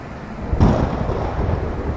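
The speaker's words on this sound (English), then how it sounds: "The storm is too loud." A thunderstorm in the video game Cooking Companions: a sudden loud roll of thunder breaks in, then a steady wash of heavy rain carries on underneath, with no voices.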